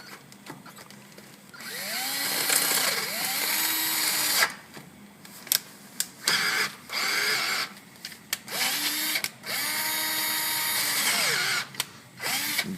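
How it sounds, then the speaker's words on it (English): A power drill bores into the metal of a 1997 Dakota steering knuckle caliper hole, whining loudly in sustained runs with pitch sweeps as the bit loads up, broken by short pauses and clicks. "Make sure you drill as straight as you can."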